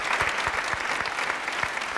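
Studio audience on a TV talk show applauding a guest, a steady, close wash of clapping that holds evenly throughout.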